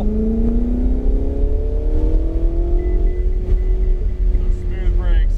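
A Ferrari 488 GTB engine accelerates hard at full throttle, its loud rising tone climbing steadily through the gears from inside the car, with a brief squeal near the end.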